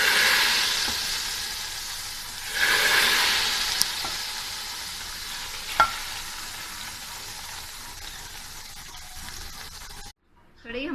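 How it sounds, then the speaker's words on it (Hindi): Hot oil tempered with cumin seeds and dried red chilies is poured into kadhi, bursting into a loud close sizzle that gradually fades to a softer hiss before cutting off. "तड़का हमारा रेडी हो गया। अब हम इसको कढ़ी में डालेंगे।"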